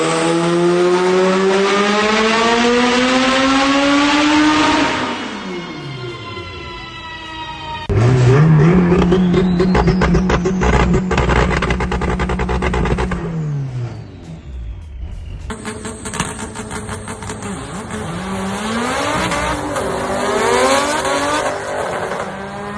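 A Honda Integra drag car's engine revs hard in repeated long, loud pulls, each climbing high before dropping off, with a crackling, popping idle between runs.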